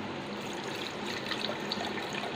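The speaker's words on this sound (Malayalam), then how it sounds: "പിന്നെ കുറച്ച് വെള്ളം ഒഴിക്കാം." Water pours steadily into a glass of ginger lemonade with cut ginger and a couple of ice cubes, a continuous close trickling splash with no talk.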